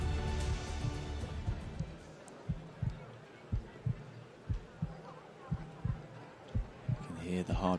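Heartbeat sound effect played at the start line of a rowing race at the World Rowing Under 23 Championships: about a dozen steady, loud thumps at an even pulse over a low crowd murmur and hum.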